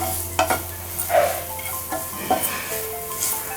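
A spatula stirs grated carrot fried rice in a hot pan, with soft scraping strokes over a light sizzle. The strokes come in a few uneven bursts and sound close up.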